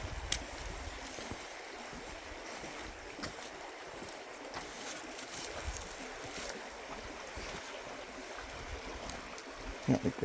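River water of the Escalante River, near Escalante Natural Bridge, flows around a hiker wading across, giving a steady, close rushing wash with small splashes throughout.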